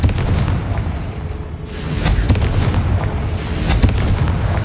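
A Confringo fire spell in the Hogwarts Legacy video game explodes with loud rumbling booms and blasts, heavy low-end rolling explosions running continuously and up close.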